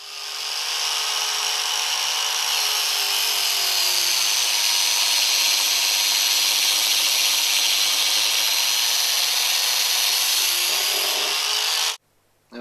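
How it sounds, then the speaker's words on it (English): An angle grinder fitted with a thin 1 mm cutting disc slices through a stainless-braided vehicle hose, giving a loud, steady, high whine that holds for about eleven seconds, then cuts off abruptly. "just cut through with the grinder"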